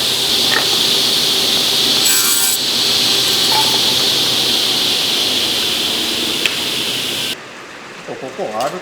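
A saw cuts wood square across the end grain while building a wall-mounted shelf. A loud, steady grinding whine runs for about seven seconds, then cuts off, leaving quieter workshop sounds.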